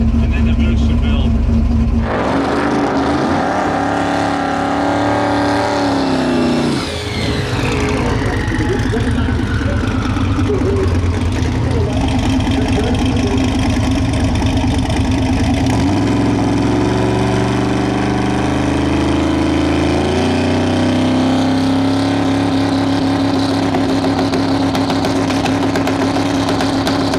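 The Mullet race car's engine held at a raised launch RPM of 3,800, producing a loud, steady drone with a pitch that rises and falls before settling into a sustained roar, close by, with talk over it.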